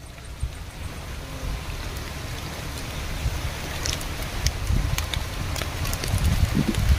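Rain falls steadily outdoors as a broad, continuous hiss with scattered droplet ticks and a low rumble underneath, gradually growing slightly louder.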